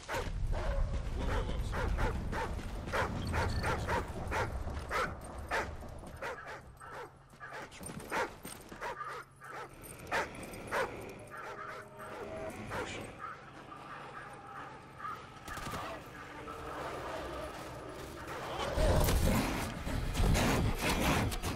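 In the Call of Duty Ghosts video game, a dog barks and yips repeatedly. The sharp barks come in irregular bursts over game sounds, with some talking.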